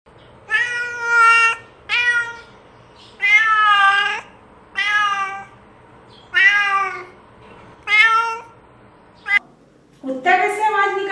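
A human voice imitating a cat's meow, about eight drawn-out mewing calls in a steady sequence, close and clear, ending with a longer wavering one; no other sounds accompany it.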